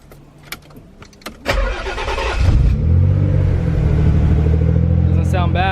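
Nissan 300ZX twin turbo engine after a spark plug change: a few clicks and starter cranking, then the engine catches and settles into a loud, steady idle up close.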